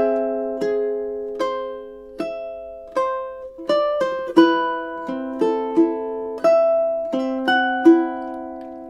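Ukulele playing two measures of Ave Maria, a steady run of single plucked notes and small chords with ringing sustain, close and clear with no talking.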